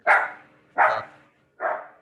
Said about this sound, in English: that's not my dog, it's okay